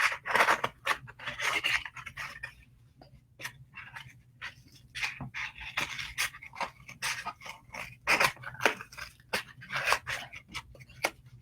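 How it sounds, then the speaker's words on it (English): Scissors snip and scrape through a cardboard egg carton in quick, uneven bursts of short crunchy cuts with brief pauses, close and fairly quiet, no talking. "I'm gonna cut out another one of those."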